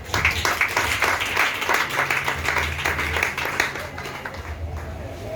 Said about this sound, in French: Alléluia, acclamons Jésus.